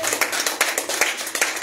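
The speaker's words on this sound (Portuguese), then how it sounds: "Essas palmas para o Senhor Jesus." Church congregation clapping in praise during a worship service, a loud, close, steady rhythmic beat of many hands with no talking over it.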